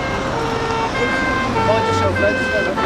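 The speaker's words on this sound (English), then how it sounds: "Ambulance is coming" An ambulance siren wails steadily with rising and falling tones over road traffic, fairly close, while someone speaks a short line over it.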